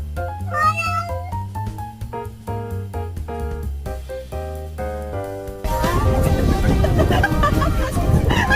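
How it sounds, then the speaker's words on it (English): A calico cat meows repeatedly in short, close, loud calls, followed by a burst of noisy, harsher meowing and rustling toward the end. "The fifth one is another calico cat."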